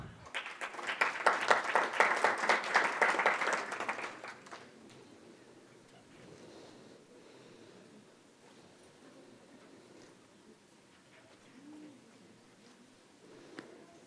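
Audience applause at a university doctoral graduation ceremony for new engineering doctors: a brisk burst of many hands clapping for about four seconds, then quiet room tone with faint murmurs.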